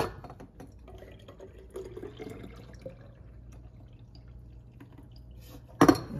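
Liquid agar is poured into dishes in quiet, intermittent trickles and drips with light clinks. A sharper burst comes near the end.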